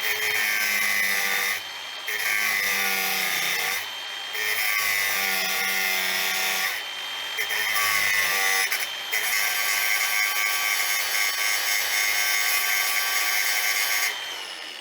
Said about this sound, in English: I'm going to grind the back of the rivet off, and hopefully it'll punch out without breaking the cast